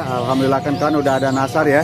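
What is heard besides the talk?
zebra doves (perkutut) cooing at a bird market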